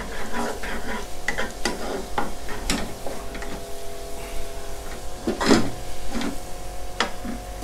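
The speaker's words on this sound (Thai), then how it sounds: "เอาตัวหมู3ชั้นเราลงไปผัดนะครับผัดให้เขาเหลืองเลย" Pork belly stir-fried in a wok, with a close sizzle under frequent sharp scrapes and clanks of the spatula against the metal, no talking.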